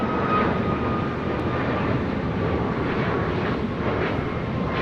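A Delta airliner taking off from runway 25 right at LAX: a steady, loud broadband engine roar with no break, heard alone.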